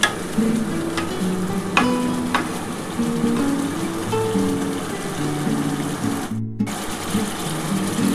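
Mustard spice paste for tilapia curry fries and is stirred in a pan, a steady sizzle with scraping strokes throughout, close and fairly loud, broken by a brief pause near the end.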